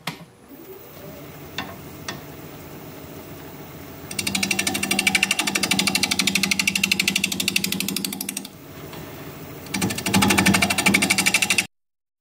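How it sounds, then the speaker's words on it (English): A wood lathe spins a live-edge paper birch blank, mounted on a woodworm screw, at about 740 RPM. Two loud, close bursts of dense, rapid rattling cutting noise are split by a short lull. "So let me get this mounted up on the woodworm screw and we're going to get to turning"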